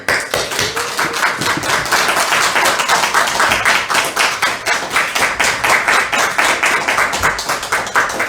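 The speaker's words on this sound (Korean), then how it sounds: "우리 목사님 나오실 때 큰 박수를" A church congregation at a 60th-anniversary worship service gives loud, sustained applause as a visiting pastor steps forward. Rhythmic clapping from many hands sounds close and full, holding steady for several seconds with no speech.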